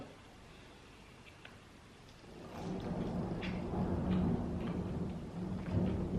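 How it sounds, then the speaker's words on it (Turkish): Rain falls outside, a quiet background patter that swells into a steadier rumbling wash partway through, faint and distant, with no speech. "Dışarıda bir yağmur var."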